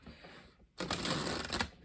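A deck of tarot cards is shuffled by hand. After a short near-quiet pause, a dense, crisp riffling burst runs close and steady for about a second.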